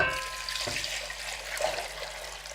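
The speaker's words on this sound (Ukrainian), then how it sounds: "заливаю холодною водою" Steady rush of two litres of cold running water filling a pot of potatoes, a continuous broadband splash with a few small clinks, close and fairly loud throughout.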